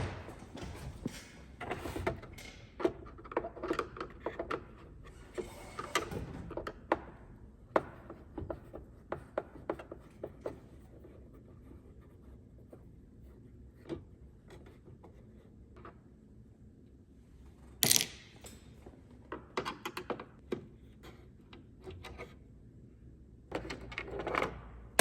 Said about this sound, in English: So let's go ahead and pull those screws out